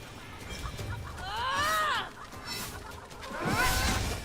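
Chickens cluck and squawk in the video game Immortals Fenyx Rising, two bursts of rising, warbling calls over a steady rumble of game ambience, fairly close.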